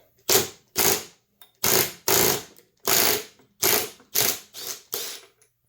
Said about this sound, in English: We're going to use the actual half-inch impact wrench.